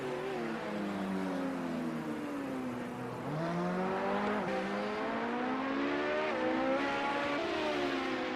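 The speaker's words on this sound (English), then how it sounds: "Quick way to get those tyres up the temp, just light them up in pit lane." An LMP900 race car in Project Cars 2 spins up its tyres in the pit lane at Hockenheim: a loud, rising and falling engine rev with tyre squeal, sustained and close.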